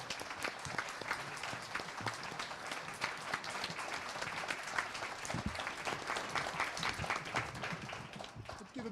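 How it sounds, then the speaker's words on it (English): An audience at a mayoral candidate forum claps for the candidates, a thick and fairly loud round of applause that holds steady for several seconds with faint crowd murmur mixed in. "Can we have a round of applause for all of our candidates"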